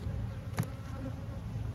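Honeybees hum in an opened hive during an inspection for eggs and brood, a dense, steady close buzz with a brief sharper tick midway.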